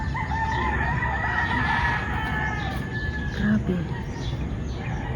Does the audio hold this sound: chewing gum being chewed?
no